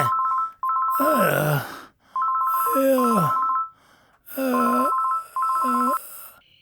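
Telephone ringing unanswered: a warbling electronic ringtone repeats in short bursts, loud and close. Breathy vocal sounds like sighs or groans come between and over the rings.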